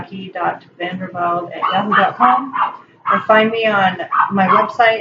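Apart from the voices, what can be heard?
dog barking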